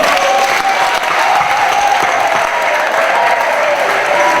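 Sustained, dense applause from a conference audience in Kinshasa fills the hall loudly and evenly throughout, with no talk over it.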